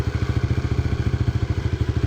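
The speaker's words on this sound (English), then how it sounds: "So you'll hear a bit of engine noise coming in." A dirt bike engine chugs at low revs with the clutch at its friction point, a loud, close, steady rapid thumping pulse with light mechanical clatter, with no talk over it.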